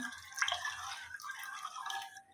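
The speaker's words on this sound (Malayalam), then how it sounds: "തിളപ്പിച്ച് വെച്ചിരിക്കുന്ന പാല് ഒരു കുറച്ച് ചൂടാറിയതിന് ശേഷമാണ് ഞാൻ ഈ ചൗരിയിലോട്ട് ഒഴിച്ചു കൊടുക്കുന്നത്" Boiled, slightly cooled milk poured into cooked vermicelli for carrot payasam, a close, steady liquid trickle and splash with small dripping accents throughout, no voices.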